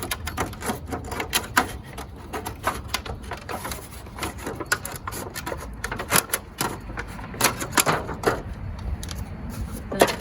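A plastic container is cut down the center for a soil planter, producing a fast, irregular run of close clicks and snips that continues steadily with no voices.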